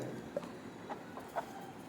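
Native country chickens give a few short, soft clucks as their coop is opened in the morning, faint and spaced out over a quiet background.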